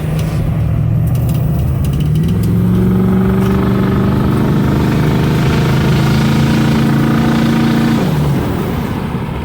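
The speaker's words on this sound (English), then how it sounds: "God, this truck sounds good." Pickup truck engine revs hard and loud, holding a steady high drone as the tires spin on gravel, with pitch climbing then dropping off near the end.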